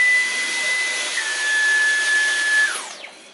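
Dyson V11 cordless vacuum running on soft carpet, a loud, close, steady high whine with airy suction rush and a sustained tone that drops in pitch as the motor winds down near the end.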